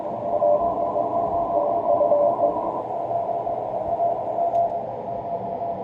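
A steady amateur-radio CW tone with a 600 Hz roofing filter engaged, humming as a narrow continuous pitch over a dense band of hiss and noise, with a clear, moderately loud level and no talking.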